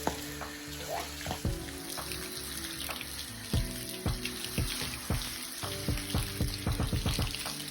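Running water from a hose sprays and splashes steadily on a horse's legs, with irregular knocks and thuds, close by.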